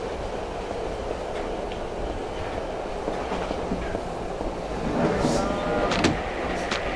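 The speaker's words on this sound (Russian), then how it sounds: "Поезд выглядит достаточно атмосферно." Subway train ride in the game Silent Hill 3: a steady, close rumbling roll of the carriage with faint rail clicks. It swells slightly louder near the end, with a few sharp metallic ticks.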